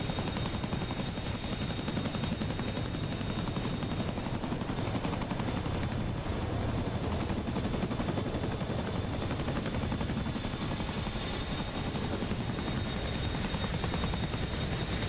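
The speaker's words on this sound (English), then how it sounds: "There's that Chinook. Getting the hell out of there." A Chinook helicopter flies away, its heavy rotor noise a dense, steady broadband roar that stays fairly even across the whole stretch with no talk over it.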